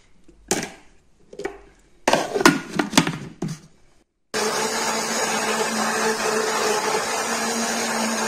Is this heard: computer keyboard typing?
no